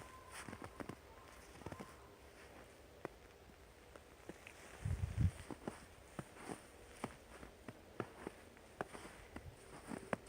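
Footsteps crunching and creaking on fresh first snow, a steady walking rhythm of sharp crisp steps close by, with a brief louder low thump midway, in a quiet outdoor setting.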